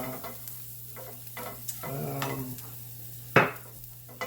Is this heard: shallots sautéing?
yes